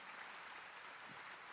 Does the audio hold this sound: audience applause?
yes